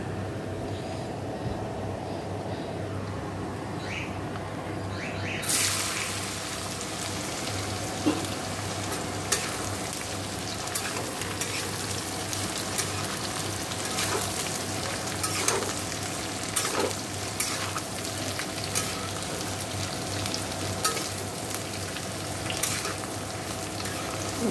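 Pointed gourd (kakrol) slices fry in hot oil tempered with nigella seeds and dried chilli, a steady crackling sizzle that jumps louder a few seconds in and carries on with occasional stirring clicks, no voices.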